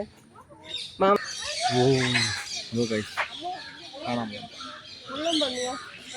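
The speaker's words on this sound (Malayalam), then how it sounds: "കുറെ തത്തകൾ കൈസ്" Parrots and other birds squawk and chatter loudly in a noisy aviary at Thiruvananthapuram zoo, harsh repeated calls overlapping with a person's voice.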